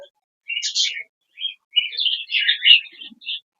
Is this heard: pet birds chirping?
yes